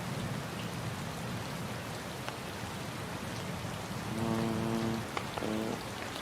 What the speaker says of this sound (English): Oh, it's raining over here.